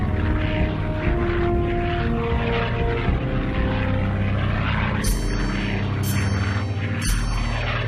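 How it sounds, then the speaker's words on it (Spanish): Single-engine WWII P-47 Thunderbolt fighter with a loud, steady propeller and engine roar throughout, joined by a few brief sharp bursts near the end. "fue uno de los aviones monomotor más destructivos de la Segunda Guerra Mundial."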